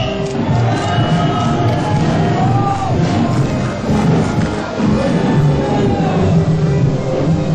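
A large outdoor crowd at a political rally in Seoul claps and cheers steadily and loudly, a continuous dense roar of applause with occasional shouts throughout.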